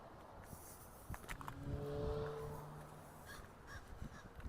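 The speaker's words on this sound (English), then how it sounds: "Hello, crow." A crow caws a few times at a distance in a quiet park, with faint background traffic and a brief tonal hum in the middle.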